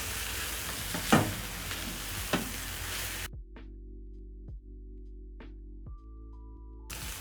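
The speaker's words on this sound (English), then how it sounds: "Give this a stir." Sausage and vegetables stirred in a hot pan give a close, busy sizzle with a few scraping knocks. The sound then drops abruptly to near silence with a low hum and scattered soft clicks.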